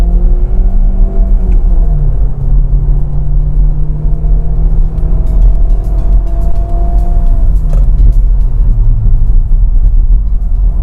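A Hyundai Verna 1.6 VTVT sedan's engine pulls hard while driving, its loud tonal drone rising through the revs, dipping at gear changes and climbing again, heard close from inside the cabin.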